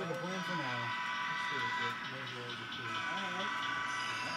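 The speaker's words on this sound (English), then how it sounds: "Looks like a train is getting ready to depart from Bayside Yard there." A BN freight train gets ready to depart Bayside Yard, its steady low rumble and hiss running throughout under a continuous voice that talks over it.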